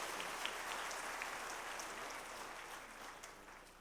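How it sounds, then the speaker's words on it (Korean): A church congregation at a Korean Sunday worship service applauds in a steady, even wash of clapping that sounds fairly distant and soft and fades slightly toward the end. "뜨거운 박수로 축복해 주시기 바랍니다"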